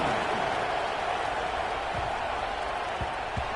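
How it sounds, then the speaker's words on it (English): College football stadium crowd during an Oklahoma versus Tennessee game, a dense steady roar of many voices buzzing after a score, with faint thumps underneath. "this crowd is buzzing after that last score"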